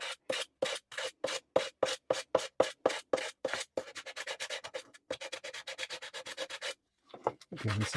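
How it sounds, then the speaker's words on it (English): Sanding a wooden stick dulcimer neck with a specially shaped sanding block: steady back-and-forth rasping strokes, slower and even at first, then quicker and shorter, close and fairly loud, with a brief pause near the end. "specially shaped sanding block."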